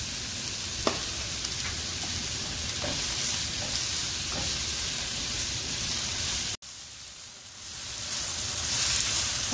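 Green chilies, curry leaves and salt sauté with onions in a pan for a beef bone curry, a steady crackling sizzle with light scrapes of stirring, a momentary cut, then the frying hiss resumes.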